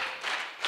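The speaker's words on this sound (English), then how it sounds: "give her a round of applause in an African way" A brief swell of audience clapping and cheering at a tech conference in Africa, a dense, bright wash of sound that rises and falls in under a second.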